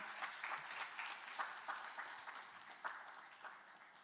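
Quiz-final audience at a corporate quiz event applauding, with faint, steady, distant clapping spread evenly across the room.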